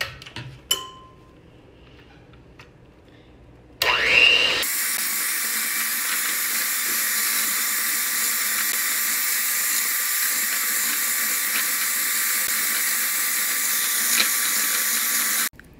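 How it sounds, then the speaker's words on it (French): Blender whirring through canned pumpkin: a steady, loud, hissing drone starts abruptly after a few seconds of quiet clinks and runs unbroken to the end. "je vais passer ça au mélangeur"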